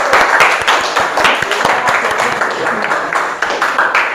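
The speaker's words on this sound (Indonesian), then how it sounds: "Kita kasih aplaus dulu ya anak-anak ya." Students in a chemistry classroom break into sustained applause, dense overlapping hand claps filling several seconds at close range, with voices mixed into the clapping.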